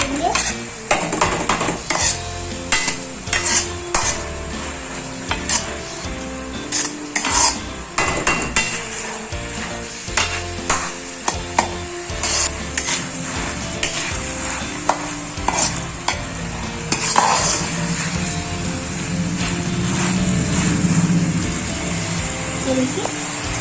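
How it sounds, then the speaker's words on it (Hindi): Street-style chowmein noodles are stir-fried with sauce in a pan, and loud rhythmic scraping and clanking of the spatula ring over a constant close sizzle, with a voice speaking now and then. "तो अच्छे से इसे मिला लेंगे,"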